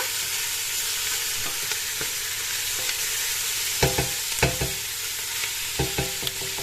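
Meat frying in a pot for Kabyle semolina meatballs in sauce is stirred, with a steady close sizzle under scattered scrapes and clacks of the spoon against the pot bottom.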